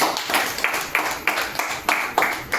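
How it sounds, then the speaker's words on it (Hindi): An audience claps in a steady rhythm, about twice per second, each clap crisp and close, repeating evenly throughout with no voices. "तो उनके लिए एक बार जोरदार तालियां हो जाए।"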